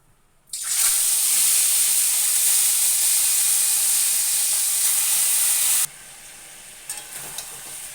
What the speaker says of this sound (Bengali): তেল গরম হয়ে গেছে, সাদা তেল। আমি এবার মাংস পিসগুলো সব ভেজে নেবো।